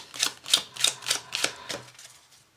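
Playing cards from a deck being given a short shuffle during a magic trick, a quick run of about seven crisp, evenly spaced riffling bursts that fade out over a couple of seconds, close and alone.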